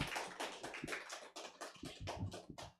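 Audience applause and clapping for a comedian at a stand-up comedy show, a dense crowd of hands clapping steadily and fairly close, with no talking.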